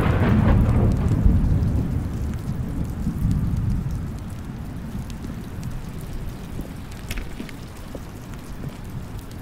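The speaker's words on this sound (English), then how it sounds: "thunder there. I like that." Thunder rolling over steady heavy rain in The Stanley Parable: Ultra Deluxe, a loud low rumble at the start fading into continuous close downpour, with no talk.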